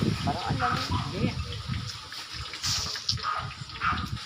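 Hot water pours and splashes over a freshly killed chicken to loosen its feathers for plucking, a steady gushing wash close by with people talking over it.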